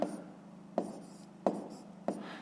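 Pen strokes writing a maths equation by hand, four crisp taps and scratches spaced evenly apart over faint quiet scratching, close and soft.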